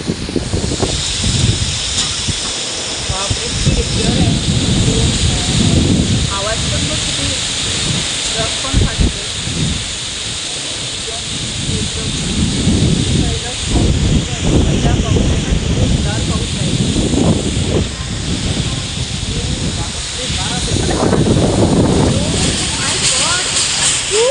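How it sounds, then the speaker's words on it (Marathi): Heavy rain pours down in a violent storm with strong wind, a steady loud roar of broadband noise filling the whole stretch with gusty surges, recorded close by during a road journey to Akkalkot. "पाऊस पहिल्यांदा भयानक पाऊस"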